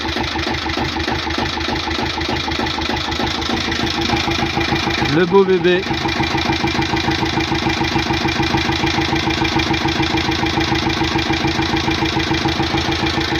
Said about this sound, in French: On va regarder le moteur tourner.